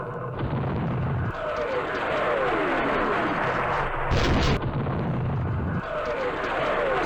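Naval destroyer artillery support fire in the Command Ops wargame during Operation Starlite, with heavy booming blasts and a sustained rumbling barrage, loud and dense, with brief speech.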